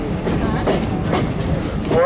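Oil Creek & Titusville Railroad passenger train, a steady loud rumble of rail cars with a faint wheel squeal rising at the end, voices mixed in.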